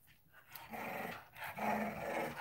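A dog growls up close in low, rough bursts that swell and fade over about two seconds, with a short yip-like break and no talking.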